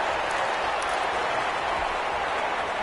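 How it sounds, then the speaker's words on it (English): Stadium crowd noise in a PS4 American football video game: a steady, distant roar of a home crowd, continuous and even, with no single standout voice. "The crowd's not doing that O-line any favors."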